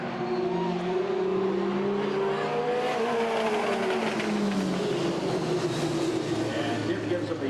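Super stock race cars circle a short-track raceway in 1989 warming their tires, engines droning and revving in overlapping, shifting tones, loud and continuous.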